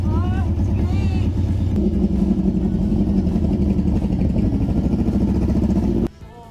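A Suzuki GS550 rat-bike motorcycle engine runs with its exhaust not yet welded, a close, loud, rough mechanical chugging held steady for about six seconds before it cuts off abruptly. Excited talking overlaps the engine at times.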